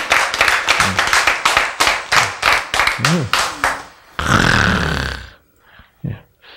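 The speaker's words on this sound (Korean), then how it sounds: "박수." A church congregation claps in rhythmic unison, a brisk run of sharp beats, then breaks into a brief burst of cheering and voices before the sound dies away.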